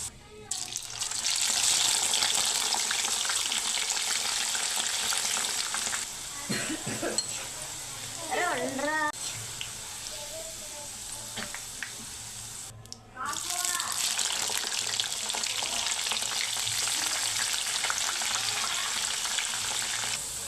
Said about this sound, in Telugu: ఇదిగోండి కాకరకాయలు అన్నీ ఫ్రై అయిపోయాయి